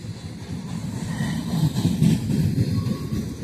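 Freight train with coil cars rolling past on the main line beside a siding, a steady low rumble of wheels and cars that swells slightly midway, continuous with no voices.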